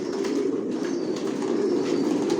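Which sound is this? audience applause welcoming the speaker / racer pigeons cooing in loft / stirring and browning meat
racer pigeons cooing in loft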